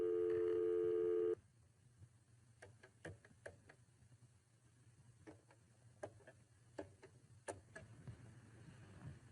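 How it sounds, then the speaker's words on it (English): A phone number being dialed as a short burst of loud DTMF tones, quickly followed by quiet scattered ticks and clicks over a low background hum. "I'm dialing the phone number"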